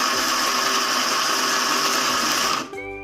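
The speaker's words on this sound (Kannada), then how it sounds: "ಈಗ ನಾನು ಮಿಕ್ಸಿಗೆ ಹಾಕ್ಕೊತಾ ಇದ್ದೀನಿ." An electric mixer grinder whirs loudly and continuously while grinding masala for an avarekalu saaru, a close, steady motor drone that cuts off abruptly near the end, leaving a brief fading hum.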